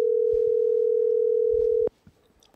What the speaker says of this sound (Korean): 먼저 전화를 연결해 보겠습니다.